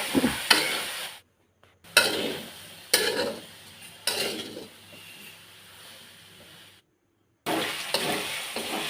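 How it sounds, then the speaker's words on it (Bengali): Soybean chunks mixed with turmeric and salt fry in hot oil in a village kitchen, giving bursts of sizzling broken by stirring clatter, with two short silent gaps. "এখন আমি এটা তেলে ভাজবো।"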